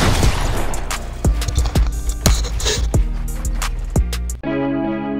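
Rapid bursts of gunfire in a competitive shooter video game match between a hybrid player and a controller player, sharp loud cracks in irregular clusters with a sustained tonal game sound at the end.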